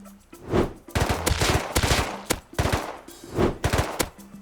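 Bursts of automatic gunfire erupt in a video game base fight, rapid rattling volleys with sharp single shots and brief gaps, loud and close.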